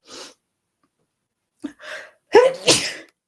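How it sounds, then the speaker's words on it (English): A sharp sneeze, with a quick inhaled gasp building up before the loud, explosive burst, then a short trailing breath; close and alone. "I've got a sneeze about to come."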